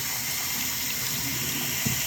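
Water running steadily from a tap over a K&N motorcycle air filter being rinsed of dirt and wood shavings, a constant close hiss and splash with a brief thud near the end.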